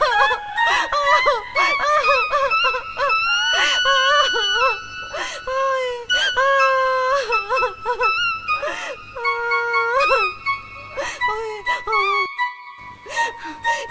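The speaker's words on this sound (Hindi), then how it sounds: "चिल्लाने की आवाज सुन के भी देखने नहीं आया" A woman screams and wails in loud, close, drawn-out cries, one after another in an anguished rising and falling pattern, with brief breaks between them.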